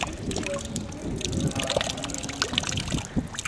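Drinking water runs from a tap in a quiet, fairly faint trickle with small splashing irregularities, heard alone and steady for a few seconds.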